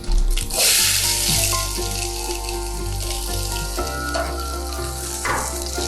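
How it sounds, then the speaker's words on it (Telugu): Onions frying in hot oil along with cumin and mustard seeds, a loud sizzle that bursts up at the start and then settles into a continuous close hiss with some stirring clatter. "ఉల్లిపాయలు వేస్తున్నాం"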